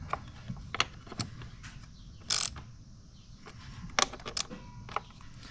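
A ratchet clicks in short bursts while tightening spark plugs by hand, with sharp close clicks and small mechanical creaks scattered through quiet gaps, and no speech.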